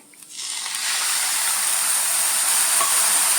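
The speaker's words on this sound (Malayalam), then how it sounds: "ഇതേ തൈര് ഒഴിക്കുവാണേ" A loud, steady hiss rises within the first second and holds as curd hits a very hot pan and sizzles continuously.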